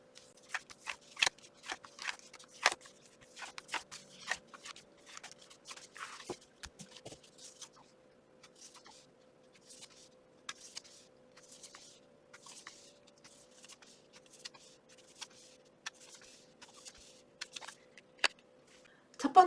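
Tarot cards are shuffled and drawn close up in a quiet room, with a long run of crisp papery riffles, snaps and light slaps at irregular intervals and no talking.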